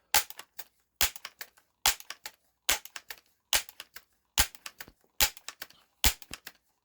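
A Daisy Powerline 822 air rifle, pumped ten times and loaded with Craftsman Premier hollow-point pellets, fires a series of sharp, loud cracks, each followed by brief clatter, evenly spaced and close by with no talking.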